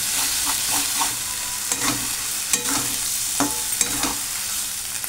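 Biryani masala fries in oil for an egg dum biryani, giving a steady loud sizzle throughout, broken by occasional scrapes and taps of the stirring spoon, close up.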